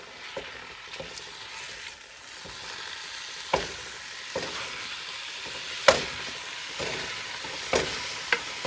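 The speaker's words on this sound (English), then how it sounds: "And the sizzling is starting." Mild chilli mixture sizzling steadily in a hot pan while a spoon stirs it, with soft scraping clicks and a few sharper knocks against the pan over the continuous frying hiss.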